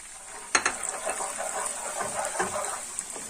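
Tomato paste and garlic sizzle in a pan while being stirred, a steady hiss with a few sharp scraping knocks of the utensil, close and with no talk.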